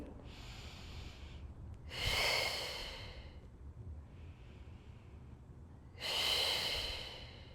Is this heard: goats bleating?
no